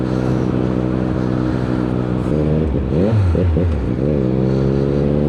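A motorcycle engine drones loud and steady, then revs up and down in quick swings through clumsy gear changes before settling back into a smooth run, heard close with no talking.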